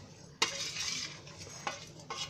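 Ingredients for a bitter gourd chutney are stirred in a pan, giving a soft continuous scraping with a few sharper clinks, close and fairly quiet with no voices.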